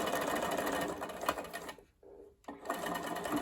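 A sewing machine runs a doll dress seam near a sleeve with a loud, close, continuous whir, stopping briefly for about half a second before starting again.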